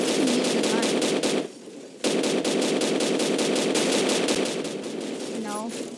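Rapid automatic gunfire from a gun in a Roblox video game, a dense rattling burst that breaks off briefly and resumes, loud and close.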